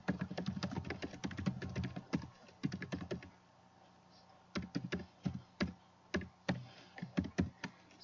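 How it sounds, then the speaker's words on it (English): Quick bursts of clicking keystrokes on a computer keyboard as a message is typed, close and crisp, pausing briefly midway before resuming in irregular clusters. "I'm going to type"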